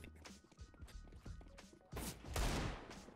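Bursts of gunfire in CS:GO, several quick sharp shots in the first two seconds, then a louder, denser burst of fire with crashing noise near the end.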